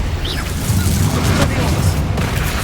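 Descendo spell slamming an enemy in Hogwarts Legacy, a loud, dense booming impact with heavy low rumble and a brief whooshing sweep, sustained throughout amid game combat noise.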